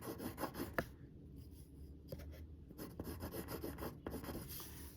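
A pencil draws diagonal lines on paper for a landscape sketch. Close, quiet scratching strokes come in short bursts with brief pauses between them, and no one speaks.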